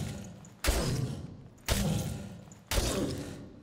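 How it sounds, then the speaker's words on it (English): Three heavy thuds land about a second apart in the dungeon crawler Dark and Darker, each a sharp broadband hit that trails off into a dull resonant tail, close and fairly loud with no talk over them. "You can hear footsteps on our left."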